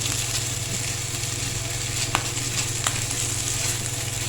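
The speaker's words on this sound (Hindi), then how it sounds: "इसको हम थोड़ा सा भूनेंगे ताकि इसका कच्चापन जो है वो ख़त्म हो जाए।" Ginger-garlic paste fries in a pan as the first step of a chicken topping for mini pizza, giving a dense, steady sizzle over a low hum, with a couple of faint clicks and no voices.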